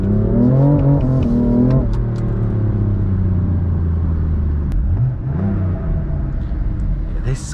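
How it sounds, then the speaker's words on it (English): A BMW M4 drifting on a track in Korea, its engine revving and rising in pitch, then settling into a loud steady drone with another climb, heard from inside the car while someone talks over it. "This car sounds nice."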